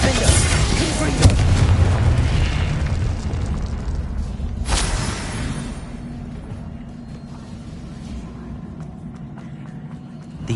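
Confringo spell explosion in Hogwarts Legacy: a heavy booming blast that rumbles loudly for a few seconds, with a second sharp burst midway, then fades into a low tail.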